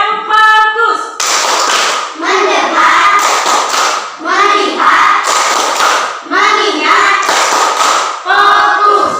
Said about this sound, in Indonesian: Sekarang tepuk yang kedua. Tepuk fokus.